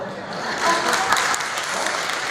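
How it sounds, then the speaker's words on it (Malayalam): Men in the audience applaud at a UDF political convention in Kalpetta, a steady, moderately loud clapping that swells slightly and holds for a couple of seconds. "The clap from the men is not that strong."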